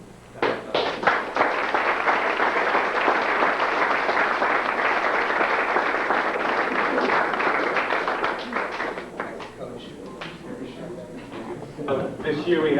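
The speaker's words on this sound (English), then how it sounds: "I think these guys deserve a round of applause for the work that they put" A room at a soccer banquet breaks into applause that builds into dense clapping, then thins out to scattered individual claps and light noise from the room.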